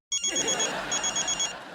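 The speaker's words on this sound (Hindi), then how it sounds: "पापा को फोन आ रहा है। उठाओ।" A telephone rings indoors with a bright, warbling electronic trill that starts suddenly and repeats briefly at moderate loudness, with no voices over it.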